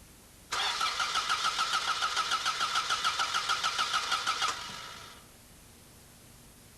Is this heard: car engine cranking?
yes